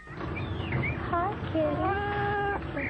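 A cat meows several times in quick succession, close by, with rising and falling cries that are clear and moderately loud.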